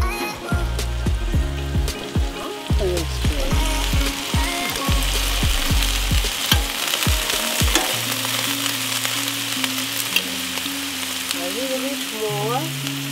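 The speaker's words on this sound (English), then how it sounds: "let's check the veggies on the barbecue" Vegetables sizzle steadily on a barbecue grill, a continuous frying hiss with scattered crackles and a few sharp knocks, up close, with no voices over it.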